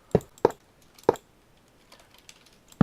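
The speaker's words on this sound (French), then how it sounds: "le bruit de mon clavier est absolument immonde" Loud computer keyboard clicks, a few sharp isolated keystrokes spaced irregularly with quiet gaps between, close up and dry.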